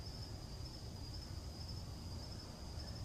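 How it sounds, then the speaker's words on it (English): Crickets chirping outdoors in a warm, paradise-like setting, a steady high continuous trill running unbroken throughout over low background rumble, moderately faint and with no voices. "Those are real friggin' crickets because you live in paradise."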